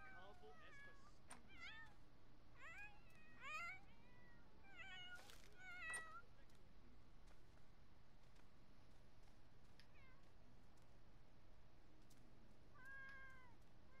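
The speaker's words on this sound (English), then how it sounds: "We got a cat in here." A cat in the Sims 4 video game meows repeatedly, several short distinct mews scattered over a quiet low hum, fairly faint and close, with no talk over them.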